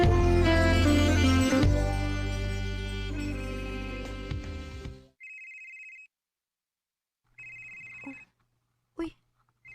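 A telephone rings in two short electronic bursts after music fades out, with a brief click between the rings, as a call comes in during a radio drama scene.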